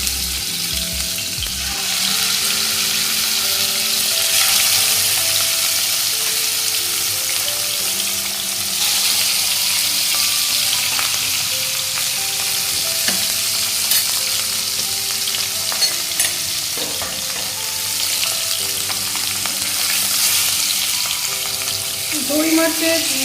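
Fish rubbed with salt and turmeric fries in hot mustard oil. A dense, continuous sizzle lasts the whole stretch with occasional stirring clicks, close and loud, and no talk.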